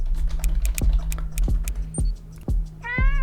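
A cat gives a short meow near the end, preceded by soft scattered taps and clicks in a quiet room.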